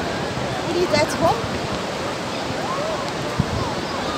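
Sea waves washing onto a beach make a steady, broad rushing wash throughout, with faint distant voices of people on the shore mixed into the background.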